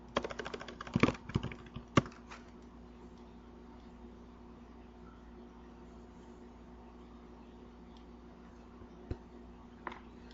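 A few quick keystrokes as a startup command is typed into SQL Plus for an Oracle ASM instance, clustered near the start with a couple of isolated taps later, faint and close over a steady low hum.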